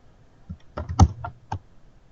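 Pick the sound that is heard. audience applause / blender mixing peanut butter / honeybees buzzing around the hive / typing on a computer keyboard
typing on a computer keyboard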